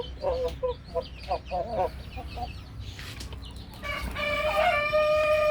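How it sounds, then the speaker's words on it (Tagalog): A sick IG hen clucks in short, close bursts in a backyard poultry pen. Near the end a louder, sustained rooster crow takes over. "Ito pong ating IG hen."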